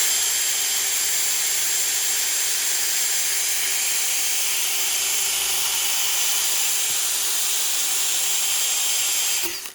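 A power tool with a grinding disc whirs steadily and loudly up close as it cleans old anti-seize off a 2013 Fiat 500 front hub, holding one even pitch before spinning down at the end, no talk.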